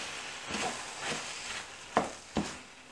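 Rice and broccoli stirred in a pan for a tangy tomato rice, a few soft scraping strokes followed by two sharper clicks of the spoon against the pan, quiet and close with a faint sizzle underneath.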